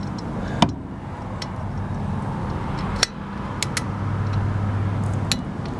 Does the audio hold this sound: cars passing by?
yes